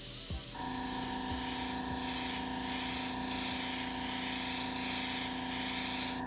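An airbrush sprays paint at high air pressure, giving a loud, continuous hissing jet of air, with a few faint clicks near the start and no voices.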